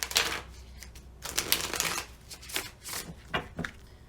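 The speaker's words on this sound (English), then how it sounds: "I want to give this a nice clean shuffle" Cards riffling and shuffling in repeated bursts of crisp, rapid flutter, close up, with brief pauses between shuffles.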